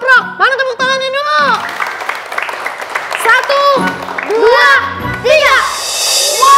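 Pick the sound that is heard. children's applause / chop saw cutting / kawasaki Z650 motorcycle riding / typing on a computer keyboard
children's applause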